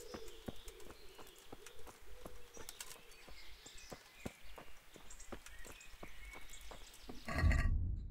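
Horse hooves clip-clop in Kingdom Come: Deliverance, a steady, evenly spaced walking rhythm of sharp close hoof strikes over light ambient birdsong, ending in a brief louder rumble.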